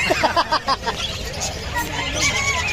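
Several nasal honking calls of geese or similar fowl come in a quick burst, then settle into softer chatter against a busy background.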